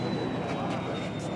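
A large BVM T-33 Shooting Star RC jet with a 127mm Dynamax electric ducted fan roars steadily overhead with a high whine, while people talk over it outdoors.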